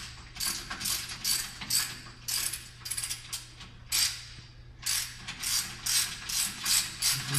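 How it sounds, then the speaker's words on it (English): A hand ratchet loosens 9/16 bolts on a StairMaster SM916 StepMill, giving repeated quick bursts of clicking pawl strokes in an uneven rhythm, close by and alone. "you want to go ahead and take the 9/16 bolts off."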